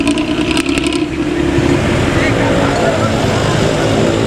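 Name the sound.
bus with loud snoring modified exhaust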